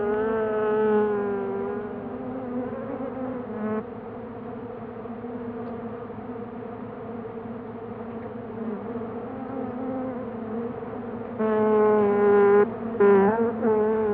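Honeybees buzzing in California, a sustained, close droning hum with a steady pitch that swells louder near the end, with no voices.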